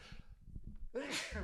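A sneeze bursts out during a casual podcast conversation, one sharp close explosive sound after a soft inhale, with talk and murmuring around it.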